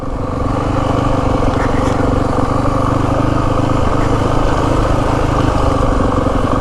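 Yamaha WR 450F 2025 dirt bike engine chugging steadily at low revs up loose terrain, a loud, continuous close-up thrum with gritty clatter and no speech.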